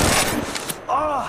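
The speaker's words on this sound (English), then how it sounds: "Shots fired at me." A quick burst of gunfire in the mobile video game Apex Legends Mobile, loud and close at the start, then fading as a voice briefly speaks.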